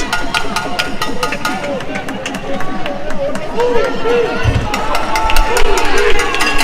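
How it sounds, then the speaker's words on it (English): A large Venezuelan crowd at an 18U baseball championship game against the USA keeps up a constant roar and babble, with dense overlapping voices and talk running on top throughout. "The Venezuelan crowd is ecstatic right now."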